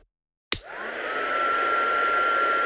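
A hair dryer clicks on and runs steadily, drying paint on a heat embossing resist craft piece, a loud, even whoosh with a constant whine that lasts to the end.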